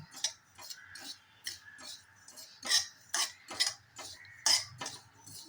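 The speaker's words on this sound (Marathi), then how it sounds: "खसखस भाजून घेतली नव्हती, ती आता घेत आहे." Poppy seeds being dry-roasted in a hot kadhai, stirred with a steady rhythm of close metallic scrapes and clicks against the pan, moderately loud with quiet gaps between strokes.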